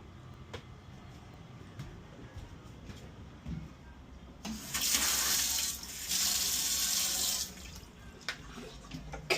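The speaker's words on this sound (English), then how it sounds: "Let's turn the water pressure on." Faint background rumble gives way to a hissing rush of water from a tap on a 20-year-old boat, running steadily for several seconds, surging twice before easing off.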